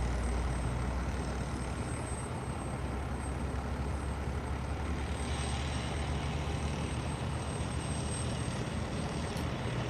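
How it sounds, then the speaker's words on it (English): Heavy trucks hauling methane rumble at the main gate of SpaceX Starbase in Boca Chica, Texas, a steady broadband engine drone with wind-like noise holding constant for about ten seconds, no voices. "Yeah, these are methane trucks,"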